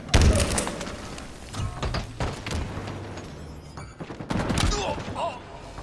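Bursts of machine gun fire crackle through a busy Halo multiplayer match, dense rapid shots with booms and thuds mixed in, alongside announcer-style game voice cues.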